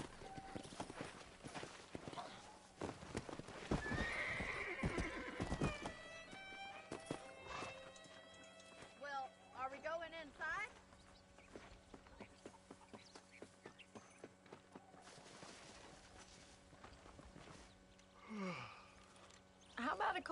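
In the Western video game Red Dead Redemption, a horse's hooves clip-clop in a soft, uneven rhythm with a brief whinny. The sounds are faint and sit among game dialogue.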